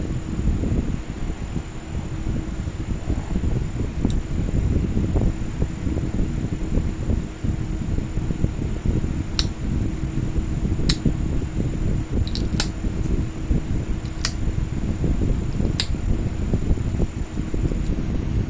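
A Dremel rotary tool knapping glass tile gives a steady, loud whirring grind that runs without a break, with occasional faint, sharp ticks of glass over the top.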